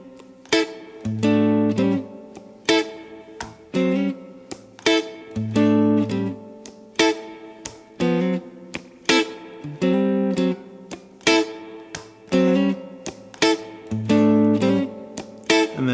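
Guitar strums a steady blues rhythm, chords changing every couple of beats with crisp attacks and short ringing sustains, played solo and close.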